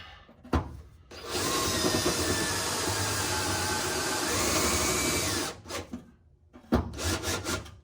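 A drill grinds steadily through metal on a Plymouth Cricket wagon body for about four seconds, loud and close, with short bursts of drilling before and after.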